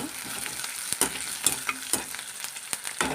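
Curry leaves sauté in hot oil in a pan for ridge gourd palya, a bright crackling sizzle punctuated by several sharp spatula scrapes and stirs at close range, with no talking.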